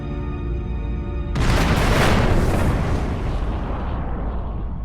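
A deep, rumbling explosion sound effect representing a supernova erupts suddenly after a tonal hum, then roars and slowly fades into a long, noisy decay.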